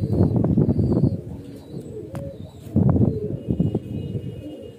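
Highflyer pigeons kept as a hobby give soft, low cooing calls in two bursts near the start and around the middle. The calls are close by, with a few faint chirps between them.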